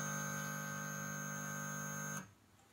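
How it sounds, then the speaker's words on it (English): A homemade wireless spy earpiece amplifier emits a steady, faint electronic tone with a buzzy harmonic edge that holds for about two seconds and then cuts off abruptly, leaving quiet background. "You can hear the beep sound."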